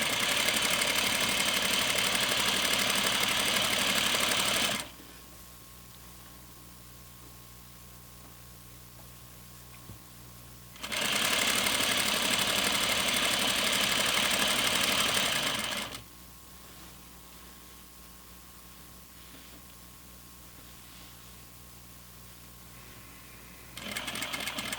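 A sewing machine runs in two sustained bursts while stitching flannel pajama pants with pockets, its steady motor whir stopping and starting with quiet pauses between runs, close and loud.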